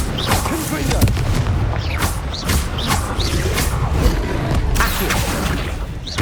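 Repeated booming spell blasts from Hogwarts Legacy combat, rapid fire-style explosions thudding one after another over a busy battle backdrop with a voice shouting spell names throughout.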